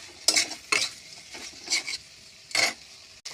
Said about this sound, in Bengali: মাছ ছেড়ে দিলাম, নাড়াচাড়া করে মিক্স করবো